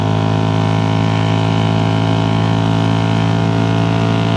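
Loud, deafening steady roar of a 1981 Honda CX400C motorcycle engine at high revs while riding, a constant buzzing drone with no speech over it.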